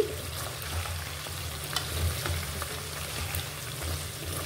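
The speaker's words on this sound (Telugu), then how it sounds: "మనకి ఆయిల్లో బాగా ఫ్రై అవ్వాలండి." Ingredients for gongura chicken pickle fry in oil over a medium flame, giving a continuous close sizzle with light stirring scrapes and no talking.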